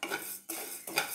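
Cumin seeds and fenugreek roasting in a pan for inchi puli make three quick metallic scrapes of a spoon stirring against the pan, close and distinct, each separated by a brief gap.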